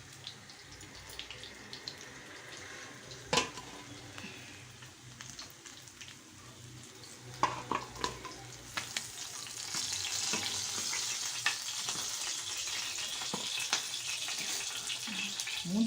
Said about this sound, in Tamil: மூடி போட்டிருக்கோம், மேலே தெரியுது பாருங்க, எப்படி பொரியறது தெரியுதா பாருங்க.